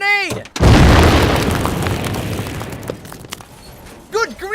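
A powerful grenade detonates in an animated cartoon, a loud sudden boom with a crackling rumble that slowly fades, followed by brief character voices at the end.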